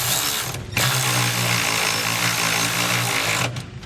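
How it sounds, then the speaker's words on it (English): A power tool driving a 9/16-inch socket tightens bolts on a sliding fifth wheel hitch mount in a Ram truck bed, a loud continuous whirring burst of about three seconds with a faint start and stop at either end. "We can now come back with our 9/16" socket and just get these tightened down."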